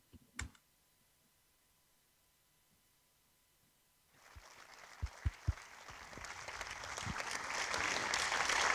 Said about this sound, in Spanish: supongo que has escuchado los aplausos del público a través de mi micrófono